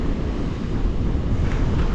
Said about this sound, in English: I've positioned the van to block some wind. It's a good sustained, probably 15 mile an hour